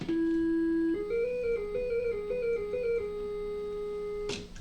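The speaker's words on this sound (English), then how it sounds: "and a sine wave." A pure synthesizer sine wave sounds a held note, then glides through a few gently shifting pitches before settling, smooth and steady and ending in a brief click.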